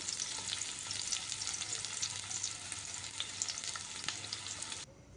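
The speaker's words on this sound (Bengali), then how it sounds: "পেঁয়াজ কুচিয়ে করে রেখেছিলাম এটাকে ভেজে নিতে হবে সুন্দর মতো" Chopped onion sizzles steadily in a hot pan, a dense close hiss with small crackles and a few faint utensil taps, cutting off abruptly near the end.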